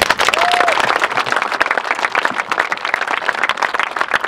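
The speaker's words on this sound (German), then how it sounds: "Und deswegen finde ich, sollten wir den dreien mal einen Applaus geben." A loud festival crowd at Summer Breeze 2015 claps and cheers for firefighters, police and Malteser medics, with close, sharp individual claps in a dense, sustained wash.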